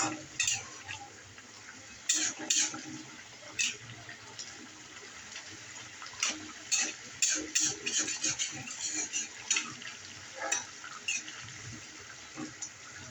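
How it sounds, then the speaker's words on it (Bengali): A spoon stirs cumin powder into a saraputi (olive barb) fish bhuna curry in a pan, making scattered light clinks and scrapes against the metal over a soft, steady background hiss. "এখন আমি একটু জিরার গুঁড়া দিয়ে দিচ্ছি নেড়ে চেড়ে মিশিয়ে নিচ্ছি"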